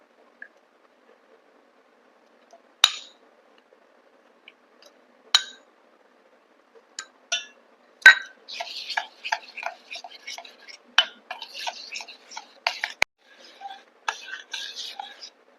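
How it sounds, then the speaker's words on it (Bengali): A spoon clinks lightly against a bowl while jaggery is mixed into whipped yogurt for cake batter, with sparse taps at first that turn into a denser run of small irregular clinks, close and fairly quiet. "এর মধ্যে এবার গুড়টাকে দিয়ে মিশিয়ে নেবো ভালো করে"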